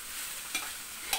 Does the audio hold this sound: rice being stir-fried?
yes